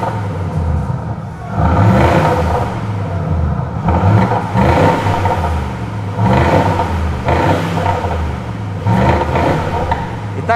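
A loud, continuous engine-like exhaust rumble from speakers in a Mercedes G350d diesel in sport plus mode, with revving swells and sharp crackling pops recurring every couple of seconds, with no talking.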